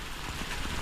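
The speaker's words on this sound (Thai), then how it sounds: "ฝนตกอีกแล้ว" Rain falls as a steady, even hiss of drops hitting surfaces, with no voices, over a very short stretch.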